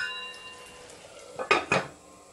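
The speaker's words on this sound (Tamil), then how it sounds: "ஒரு லிட்டு வச்சு அதை மூடிடலாம்." A metal lid set onto a cooking pot of simmering drumstick curry in a home kitchen: two quick clanks close together, ringing briefly over a quiet background.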